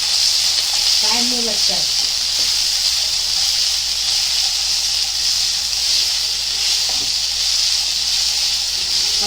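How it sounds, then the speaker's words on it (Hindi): Green peas roasting in a hot pan for a potato and pea sabzi, a steady loud sizzling hiss throughout with a brief spoken remark over it. "देखो, अभी वटाने को अच्छे से भुनेंगे।"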